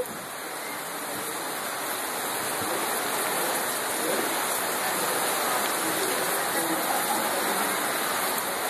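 Heavy rain pours down steadily in Itapuã, Distrito Federal, a dense continuous hiss of water with flooding runoff, loud and unbroken throughout with no clear talk.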